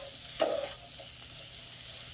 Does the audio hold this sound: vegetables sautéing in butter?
yes